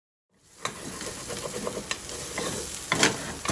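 Onion, ginger and garlic paste with green chili browns in a pan for chicken curry, a dense close sizzle rising after a brief silence, with light scraping stirs and a louder scrape near the end.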